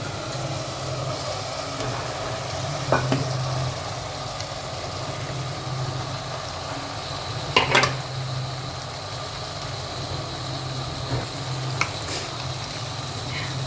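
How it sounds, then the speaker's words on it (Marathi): Potatoes are sautéed with turmeric in a pan, making a low, steady sizzle and hum, with a few sharp utensil clanks against the pan. "परतून झाली बटाटे परतून घेते"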